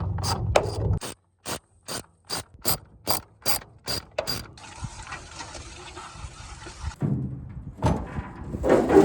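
Socket ratchet wrench clicking in about a dozen sharp, evenly spaced strokes, followed by a longer stretch of continuous rapid ratcheting as a 10 mm bolt holding a battery box is backed out on a Cherokee jet jon boat build, then rustling handling noise.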